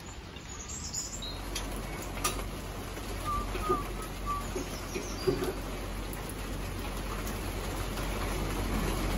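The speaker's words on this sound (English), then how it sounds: "Let's just hope the rain stops." Steady rain falls outside as an even, soft hiss throughout, with a few faint bird chirps on top and no talking.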